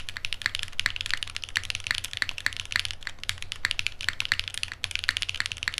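Rapid, even typing on a TGR-designed 75% top-mount mechanical keyboard with Monoke keycaps: crisp, clean clacks in a steady rhythm, close and alone without talk.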